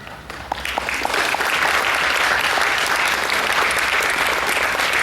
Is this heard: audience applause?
yes